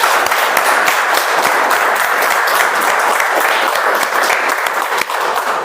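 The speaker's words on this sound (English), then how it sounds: "a big round of applause to all of you." An audience breaks into a big round of sustained, dense applause, steady and loud throughout with no voices standing out.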